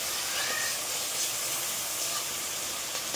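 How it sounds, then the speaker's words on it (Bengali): Bengali fish curry spice paste sizzles steadily in a pan as it is stirred and fried, a soft, even hiss running from start to end. "নেড়ে চেড়ে ভালো করে কষিয়ে নেব।"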